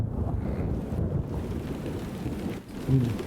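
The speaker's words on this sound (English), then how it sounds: "The rain." Rain with low rumbling thunder in the video game Xenosaga Episode II, a steady dense wash of rainfall with a deeper rumble swelling near the end, heard alone with no voices.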